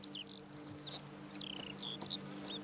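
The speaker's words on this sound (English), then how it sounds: "This is a bee farm." Bees buzz around beehives at a countryside bee farm in The Witcher 3: Blood and Wine, a low, steady drone under bright, rapid chirping insect calls.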